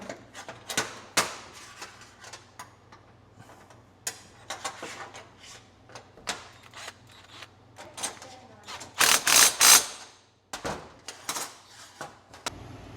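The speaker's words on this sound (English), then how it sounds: "Pretty sure this is a 1/2 inch wrench" A half-inch wrench ratcheting on a Toro zero-turn mower makes a series of close, sharp metallic clicks in irregular bursts, with a louder rattling flurry near the middle.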